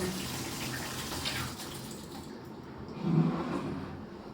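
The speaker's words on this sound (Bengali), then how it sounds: "গরম পানিটা দিয়ে যদি মশারিটা ভিজাই তাহলে একটু ভালো ভালো" Hot water poured over a mosquito net soaking in a basin at home, heard as a steady watery rush with a brief louder gush near the end.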